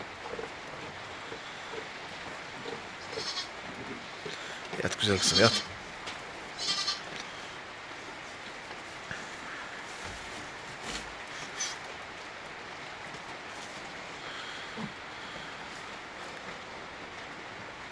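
A farm sheep lets out a clear bleat partway through, with fainter animal calls scattered around it, against a soft steady background and someone speaking quietly nearby.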